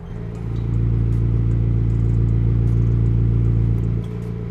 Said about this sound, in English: The valves open and or close on the new exhaust system, resulting in a noticeable sound difference.